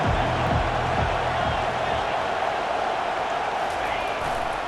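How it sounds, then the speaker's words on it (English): A big American football stadium crowd roars steadily throughout, a broad, loud wash of cheering and noise with no break. "This crowd bringing the energy and noise early."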